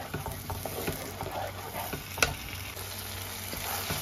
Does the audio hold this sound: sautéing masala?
yes